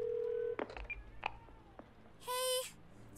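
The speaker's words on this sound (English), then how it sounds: "Now let's call Bumblebee again on his phone." A phone in a video game dials out with a quick series of short electronic beeps, followed by a brighter, buzzy ringing tone, all fairly quiet over a low background hum.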